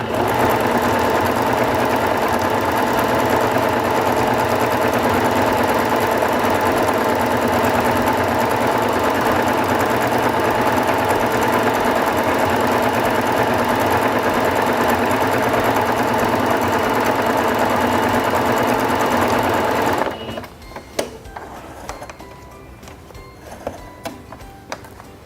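A SINGER Fashion Mate 5560 sewing machine stitches a decorative vine stitch, its steady rapid mechanical whir running loud and unbroken for about twenty seconds before stopping, leaving only faint handling clicks.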